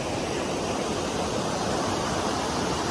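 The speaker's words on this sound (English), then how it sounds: "it's just a bunch of like rushing glacial water" Glacial meltwater rushes below a lookout along the Sea to Sky Highway near Whistler, a loud, steady roar of torrent that fills the whole clip without pause.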